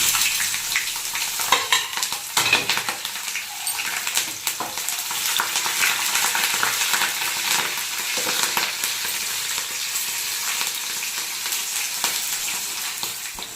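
Curry leaves and a tempering crackle in hot oil while tamarind pulihora is made, a dense, continuous sizzle with stirring scrapes running throughout, close and fairly loud, without speech.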